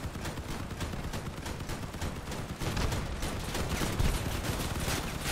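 Vehicle-mounted weapons in the Crossout combat game fire in rapid, rhythmic bursts, steady and close, growing louder and denser partway through.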